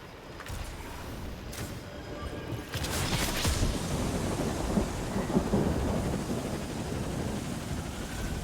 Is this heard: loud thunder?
yes